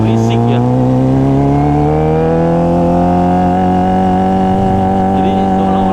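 A Kawasaki Ninja ZX25R with a LeoVince LV10 exhaust revs hard and close, its engine note climbing steadily in pitch across the whole stretch, loud and continuous with no talk over it.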